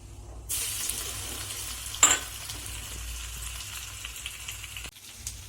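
Crushed garlic hits hot oil with a sudden loud sizzle, then a steady crackling hiss, briefly broken by a stir, before cutting off.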